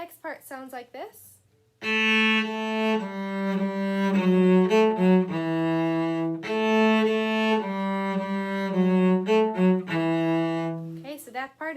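A cello plays the next phrase of May Song as a steady string of bowed, sustained notes. Brief speech comes just before and just after the playing.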